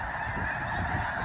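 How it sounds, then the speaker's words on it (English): A large flock of snow geese honks continuously at a wildlife refuge, a dense, steady chorus of overlapping calls close at hand with no pauses. "there's so many birds everywhere"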